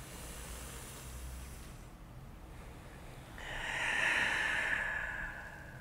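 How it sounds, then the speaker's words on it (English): Slow deep breathing during a guided exercise, a soft airy exhale followed after a pause by a longer, louder breath that swells and fades, close and alone without talk. "breathing out."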